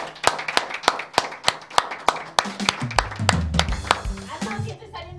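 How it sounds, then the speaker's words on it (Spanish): A studio audience at a television interview show claps in a steady run of sharp handclaps that thickens into fuller applause, with voices creeping in toward the end. "nuestras palmas se disponen a aplaudir por primera vez en este estudio"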